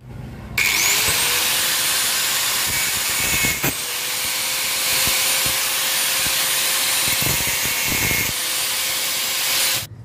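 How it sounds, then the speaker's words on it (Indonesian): A steel pin for a Yamaha RX King clutch is cut with a power tool, a loud, steady high-pitched whine running continuously for about ten seconds with a brief dip partway through. "Jadi pen ini agak kepanjangan, jadi kita potong lagi."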